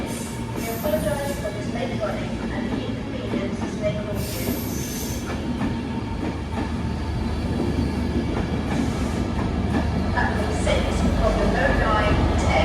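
Transport for Wales train 802227 at Crewe station on a Manchester Piccadilly to Cardiff Central service, a loud continuous rumble of wheels with rising squeal and brake hiss, and voices heard over it.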